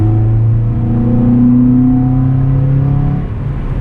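A Honda Civic Si engine with a K-Tuned 3-inch aftermarket intake rumbles steadily with a deep, throaty drone, rising slightly in pitch before easing off near the end.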